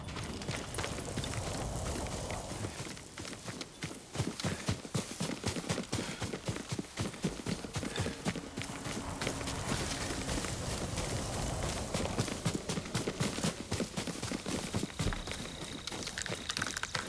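Steady clip-clop of horse hooves on hard ground in a video game (Ghost of Tsushima), a quick rhythmic trot continuing throughout with faint background ambience.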